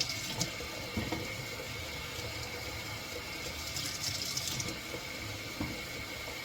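Water runs steadily from a kitchen tap into a sink while something is washed, a continuous close splashing stream with faint clinks.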